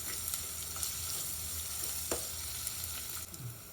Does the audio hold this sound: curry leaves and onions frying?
yes